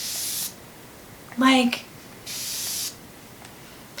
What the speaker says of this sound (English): it has a really nice sprayer